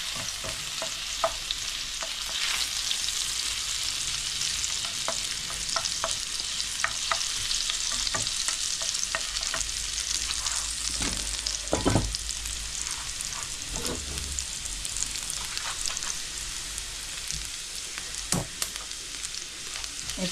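Garlic sizzles and fries steadily in hot mustard oil for a taro curry, with occasional stirring scrapes of a spatula in the pan; a continuous close, bright crackle with no talking.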